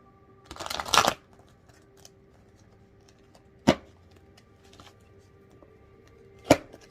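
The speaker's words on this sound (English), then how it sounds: "these cards are not wanting to shuffle, and this is my favorite deck" Tarot cards shuffled by hand in a quiet room: a longer ruffling riffle, then two sharp, brief card snaps a few seconds apart, close and fairly soft.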